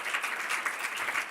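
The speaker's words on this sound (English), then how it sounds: "the next request is a huge applause to the panelists" A conference audience gives steady, dense applause to the panelists at an energy event, a continuous wash of many hands clapping without pause, moderately close.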